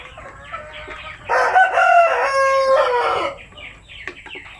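Native chickens on a small Filipino poultry farm: a loud rooster crow of about two seconds rises at the center, with scattered clucking before and after it against a quiet background.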